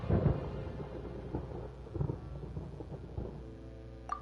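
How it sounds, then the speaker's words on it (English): Thunder in the video game Genshin Impact rolls as a long, low rumble with scattered crackling bursts, fairly loud and sustained, ending with a faint chime-like tone. "Paimon hears thunder!"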